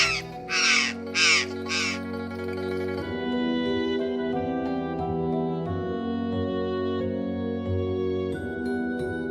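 A crow gives four harsh caws in quick succession, loud and close, over a steady musical backdrop that carries on alone after the calls stop.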